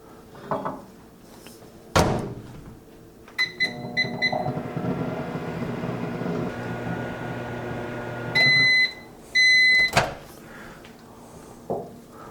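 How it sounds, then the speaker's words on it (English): A microwave oven heating covered chili hums steadily after a door thunks shut and buttons beep, then it stops with a few beeps and the door clicks open. "back into the microwave for a couple of minutes"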